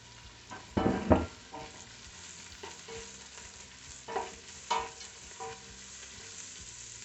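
Leek and garlic sautéing in a pot for a homemade leek and potato soup, a soft steady sizzle broken by a few louder bursts of stirring and scraping, close by and with no voices.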